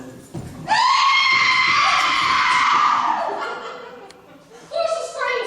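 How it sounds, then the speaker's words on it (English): A long, loud harmonic scream rings out for about three seconds, then fades, and a second shorter scream rises at the end, staged in a haunted house play. "Of course the screams help too."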